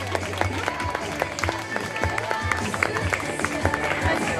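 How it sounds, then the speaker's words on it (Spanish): Applause from an audience at a pet contest held in a department store, greeting a five-year-old female West Highland Terrier, a busy clatter of clapping mixed with crowd murmur and a low voice underneath. "Un fuerte aplauso, Lula."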